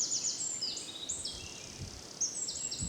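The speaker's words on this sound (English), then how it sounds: "The very loud shrill there of the wren." A wren in English countryside woodland pours out loud, shrill, high-pitched trilling phrases in quick repeated bursts, ringing clearly over a quiet background.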